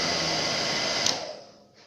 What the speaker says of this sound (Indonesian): Anda menggunakan ini dia, hair dryer.